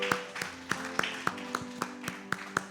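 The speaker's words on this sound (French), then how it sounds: "Let's clap." A church congregation claps in a steady rhythm during a sermon, about ten evenly spaced claps over a sustained musical drone.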